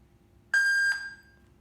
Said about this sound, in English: beep one time means connected successful